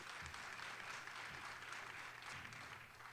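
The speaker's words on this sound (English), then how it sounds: "We can applaud that." Steady applause from a crowd at an outdoor community kickoff celebration in Chicago, a continuous wash of clapping at moderate distance with no talking over it.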